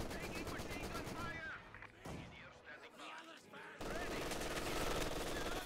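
MG42 machine gun in the Company of Heroes 2 video game: rapid, rattling bursts and scattered gunfire, loud at first, briefly thinning, then swelling again. A commentator talks over the battle.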